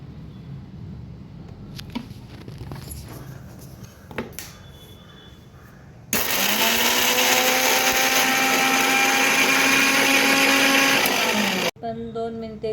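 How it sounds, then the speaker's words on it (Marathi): A mixer grinder blends chillies, garlic, cumin and ajwain in a loud, steady whir lasting about six seconds, after quieter kitchen clinks and handling sounds, and then stops abruptly. "आता आपण मिक्सरच्या भांड्यामध्ये मिरची, लसूण, जिरे आणि ओवा बारीक करून घेऊ"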